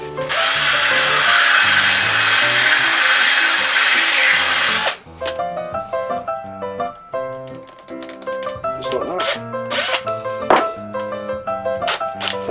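A power drill sanding down a wooden dowel runs loudly and steadily for about five seconds, then stops, leaving light clicks and taps against a tonal background.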